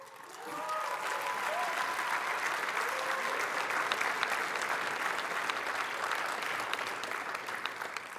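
Sustained audience applause fills a hall at a chess hall of fame induction ceremony, steady and dense from start to finish with no voices over it.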